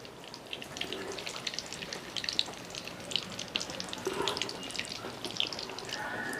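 Egg-coated lote fish kobiraji fries in hot oil with a soft, dense crackle and spatter that runs steadily throughout. The sizzle stays fairly quiet and close, with brighter pops scattered through it and no talking.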